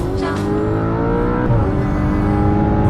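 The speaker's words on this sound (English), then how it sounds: "Listening to the engine exhaust and enjoying this pure." An Audi R8 sports car engine drones steadily with a rich, throaty exhaust note, loud and close, shifting slightly in pitch as it pulls.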